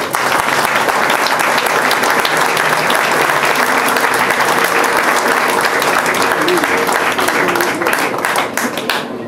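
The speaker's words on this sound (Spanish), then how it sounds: "les pediría un aplauso a todos esos jugadores" An audience at a senior professional golf tournament award ceremony applauds the players, dense and loud continuous clapping that holds for several seconds before beginning to thin near the end, with some talk mixed in.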